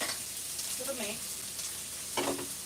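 Saltfish dropped into peppers, onions and scallions frying in a pot, a soft sizzle with a couple of brief stirring scrapes, faint and close.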